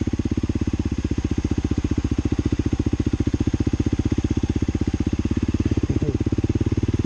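A 2023 Honda CRF300L Rally motorcycle crawls along at walking pace, its single-cylinder engine thumping in a steady, even low pulse at near-idle throughout, with no clutch slip or stalling.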